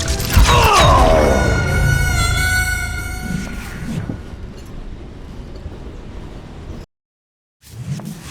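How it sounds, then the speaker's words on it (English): Freight train rolling along in a Western shooter game, a loud steady rumble with rising whistle-like tones and metallic screeches early on, fading down before a brief silence and a low thump at the end. "So, I hopped the same train."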